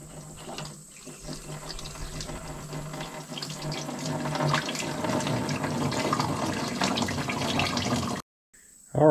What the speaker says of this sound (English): I can drain the water out of here the same way I did the fuel.